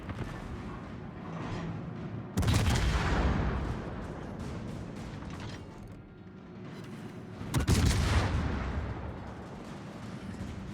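Booming naval gun salvos from an enemy ship in World of Warships, two loud blasts spaced about five seconds apart, each rumbling out over a steady background of engine and sea noise.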